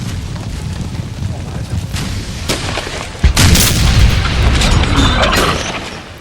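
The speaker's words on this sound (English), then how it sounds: "And these guns are firing here as well" Napoleonic artillery guns in Napoleon Total War firing during a Wilson's Creek battle, a series of deep booms and rumbling blasts, one especially loud and near midway, amid ongoing battle noise.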